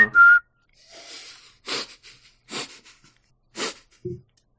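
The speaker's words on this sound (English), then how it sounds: "That was a good whistle." A short whistled note opens, followed by breathy gulping and chugging sounds in separate bursts, then a low grunt.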